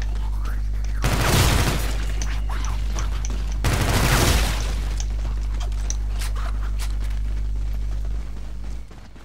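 Submachine gun fire in Call of Duty: Infinite Warfare on the Rave in the Redwoods map, two loud sustained bursts of roughly a second each, separated by quieter game ambience with a steady low hum.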